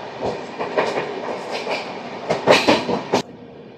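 A passenger train hauled by a WAP electric locomotive rolls past at an Indian station, its wheels beating a loud, close clickety-clack rhythm that builds and then cuts off abruptly.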